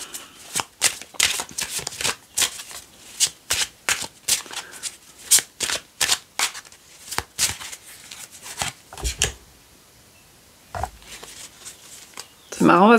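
Tarot cards are shuffled in rapid riffling bursts of crisp, close flutters with a rhythmic pattern. A brief pause comes near the end before a final shuffle.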